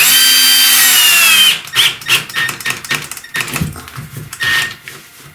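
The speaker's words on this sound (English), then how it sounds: "Put a couple screws in it." A power drill drives screws into bathroom wall framing: a sustained whirring run first, then a series of short stop-start bursts and knocks as the screws seat, close and loud with no voices.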